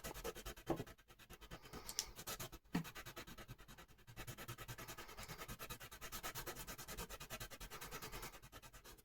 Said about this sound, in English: what I'm going to do is just rub this masking fluid off